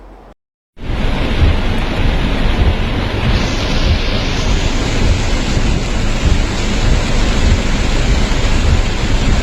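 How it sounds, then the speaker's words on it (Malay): Flash flood water rushes across a road outside a campus in Sepanggar, Tuaran, Sabah, a loud, continuous roaring wash of water that starts abruptly after a moment of silence and stays dense and unbroken. "Info banjir di depan kampus Intan Jalan Sepanggar Tuaran mengakibatkan ramai pengguna jalan raya berpatah balik dari mengambil risiko meredah banjir kilat"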